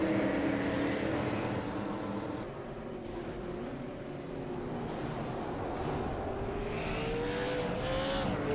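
A super late model race car rumbles around the Milwaukee Mile oval on a slow victory lap, its engine a steady, moderately distant drone that dips and swells as it circles, with a rising whine near the end.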